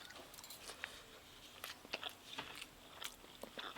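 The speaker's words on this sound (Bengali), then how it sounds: "চুপচাপ খেয়েই যাচ্ছে" Quiet, close chewing and crunching from a grandfather eating a home meal of fish curry and sour prawn dish, soft irregular bites repeating steadily with no talk.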